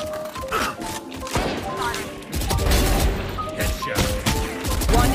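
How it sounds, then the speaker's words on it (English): Shotgun blasts and other weapon fire in the tactical shooter Valorant, a series of loud sharp shots with crashing impacts across the stretch, over game effects and tonal cues. "A shotgun."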